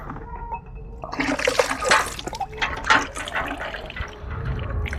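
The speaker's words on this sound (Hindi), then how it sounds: "हमने हाथ को धो लिया।" Hands are washed under running water, an uneven splashing and pouring that starts softly, grows busier in the middle with gurgles and drips, then settles into a low steady flow.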